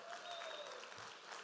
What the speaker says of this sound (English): can you guys give him a big round of applause?